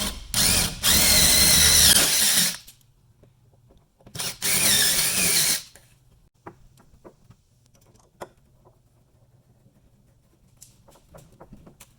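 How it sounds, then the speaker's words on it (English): Two bursts of a power drill whirring at high speed, each lasting a couple of seconds, followed by quiet ticks and small clicks of handling. "And then drill the hole right in the center there."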